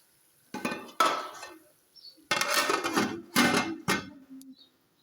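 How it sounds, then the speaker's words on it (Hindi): A spoon stirs curry in a pot, making bursts of scraping and metallic clinking close up, separated by short pauses. "बीच बीच में हमने ये चम्मच हिलाते रहना ताकि ये नीचे से जले ना"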